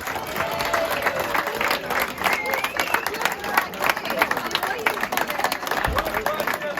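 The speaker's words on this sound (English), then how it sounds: "So a big round of applause for our visitors from Chester." Applause for the visiting Chester rugby team after a match, a dense patter of clapping from a crowd in a clubhouse, with voices and babble mixed in throughout.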